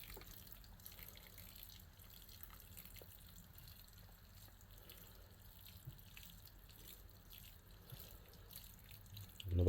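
Water drips and trickles quietly through the soil of a potted Magnolia stellata bonsai just after watering, with faint, scattered drops in a calm setting.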